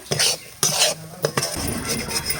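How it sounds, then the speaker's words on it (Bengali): Spoon stirring salt and turmeric through ingredients in a metal cooking pan, several loud scraping strokes and clinks of utensil against pan over a soft sizzle. "আবার একটু ভালোভাবে নাড়াচাড়া করে নেব।"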